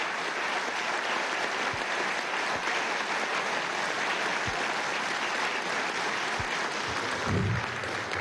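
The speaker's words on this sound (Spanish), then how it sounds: "yo pido un aplauso para este ministro" Audience applause for a young government minister at a Venezuelan public event on mining investment, a dense, steady wash of clapping from a large crowd, loud and sustained throughout with a few sharper claps near the end.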